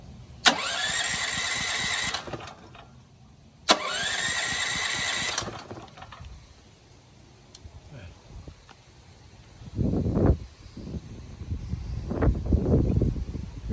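A FIRMAN 9400 dual-fuel generator cranked with the choke on: two loud, roughly two-second start bursts that cut off each time, followed by quieter handling thumps and rustles.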